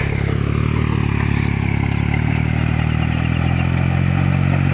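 A Kubota L2002 walking tractor engine chugs loudly and steadily nearby in a paddy field, a constant rumbling drone with rattling, no voices.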